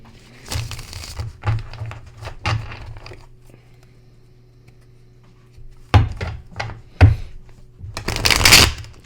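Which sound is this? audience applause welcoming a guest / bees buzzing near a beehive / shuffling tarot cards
shuffling tarot cards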